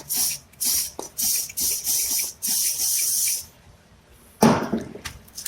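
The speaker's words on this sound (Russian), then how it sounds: "Приподняли и туда немного силикон спрея брызнули." Short bursts of silicone spray aimed at a lifted rubber piston boot on a Ford Transit brake caliper, several close hissing sprays in a row followed by one longer burst after a pause.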